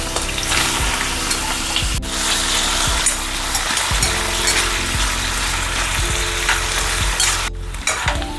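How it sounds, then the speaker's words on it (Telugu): Cut potatoes frying in hot oil in a pan for an Indian aloo matar curry, with a steady loud sizzle and crackle throughout and repeated stirring scrapes and clunks at regular intervals. "ఆయిల్ హీట్ అయింది కదండి, దాంట్లో ఆలు వేస్తున్నా."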